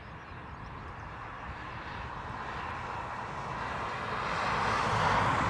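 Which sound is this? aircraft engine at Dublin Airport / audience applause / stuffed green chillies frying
aircraft engine at Dublin Airport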